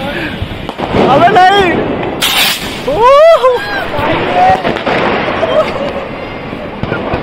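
Diwali firecrackers set off in a street in Noida, with loud close bangs and crackling bursts mixed with whistling rockets, while people shout and talk excitedly over the noise.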